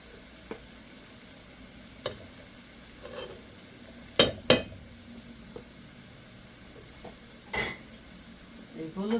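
Ginger and garlic paste frying with turmeric in a pan, a soft low sizzle broken by a few sharp clinks and scrapes of a spoon against the cookware, fairly quiet overall.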